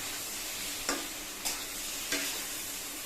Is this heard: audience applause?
no